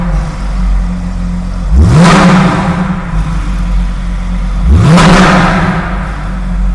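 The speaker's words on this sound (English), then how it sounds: "spectacular exhaust note" A 2016 Porsche 911 GT3 RS revs twice in quick succession, each sharp rising blip of the engine swelling into a loud, raspy exhaust bark before falling back to a steady idle rumble.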